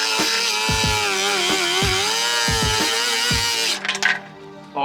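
An electric power tool whines steadily and loud while working on a Tesla Model 3 body during a widebody kit build, with a repeating rhythmic chatter beneath the tone before it cuts off near the end.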